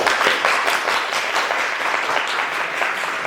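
Sustained applause from an audience at a regional school quiz tournament, greeting a secondary school team called Kosmos; steady dense clapping throughout, loud and close, with no talk over it.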